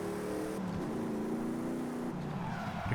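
A car engine in Forza Horizon 5 revs steadily high and loud, its pitch climbing and holding, with a brief dip as it shifts before rising again, continuous throughout.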